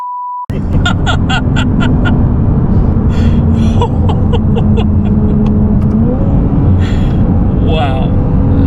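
A Ferrari 296 GTB hybrid supercar launches hard after a short electronic beep, its engine roaring loud and close with a steadily rising pitch, while excited voices exclaim from inside the cabin.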